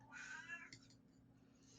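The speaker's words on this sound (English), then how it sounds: "I have no idea why she's meowing." Stormy, a cat, lets out a single drawn-out meow, faint and somewhat distant, followed by quiet background.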